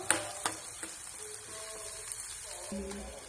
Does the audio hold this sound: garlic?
yes